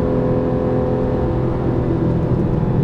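A Porsche 911 GTS with PDK gearbox in Sport Plus mode, its engine held at high revs in a low gear, giving a steady, loud, sustained mechanical drone with no break.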